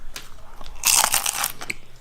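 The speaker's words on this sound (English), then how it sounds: "That was good and crunchy." A crunchy taco topped with melty cheese is bitten into, giving a loud, close crackling crunch with a few sharp follow-up crackles and no talking.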